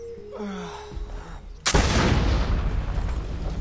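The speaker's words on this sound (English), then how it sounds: "pick up the musket. Shoot the barrel." A musket shot at a barrel in Assassin's Creed Liberation cracks out loud and sudden after a stretch of quieter game ambience, leaving a long, rough, rumbling tail.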